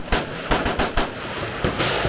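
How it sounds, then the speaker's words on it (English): AK-47 rifle fire at the Cu Chi shooting range near Saigon: a run of sharp, loud shots in irregular bursts, several cracks close together with brief gaps, ringing out with no talk. "I'm going to film a couple of the guys on the tour with me popping off the AK-47"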